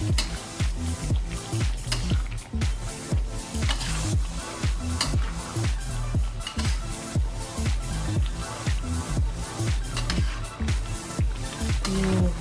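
A spoon stirs kalio of jengkol with anchovies in a pan, making repeated wet, sizzling squishes in a steady rhythm with the occasional clink of the pan, close and fairly loud.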